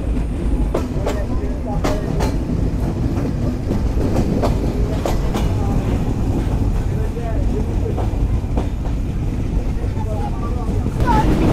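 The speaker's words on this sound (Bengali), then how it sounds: "আন্তনগর কপোতাক্ষ এক্সপ্রেস ছেড়ে গেল কোটচাঁদপুর রেলওয়ে স্টেশন থেকে বিকেল 6টা 24 মিনিটে।" Kapotaksha Express intercity train pulling out of Kotchandpur railway station on its Rajshahi to Khulna run, a loud, steady rolling rumble of the coaches with scattered wheel clicks and rattles throughout.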